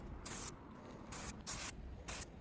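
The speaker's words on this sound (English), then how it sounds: "Then I'll move on to Tamiya's Flat Flesh Spray Paint." A can of Tamiya Flat Flesh spray paint hisses in four short, close bursts with faint pauses between them while coating a hand prop for a Halloween build.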